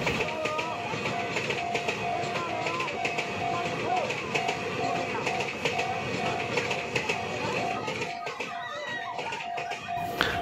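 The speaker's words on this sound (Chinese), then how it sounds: "火车快要来喽，赶快来看一下" A New Tze-Chiang express train rumbles loudly past a seaside level crossing near Taimali station on Taiwan's Pacific coast, its steady rushing roar and wheel clatter filling the whole stretch, with a crossing bell faintly ringing and a bird calling.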